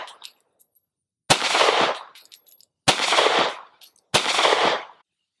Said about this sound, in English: I'm just gonna take the SiC P365 and do some headshots into the head box